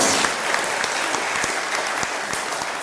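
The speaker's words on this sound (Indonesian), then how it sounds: "Tepuk tangan." An audience at a talk breaks into steady, dense applause, many hands clapping together at full strength for nearly three seconds with no voices over it.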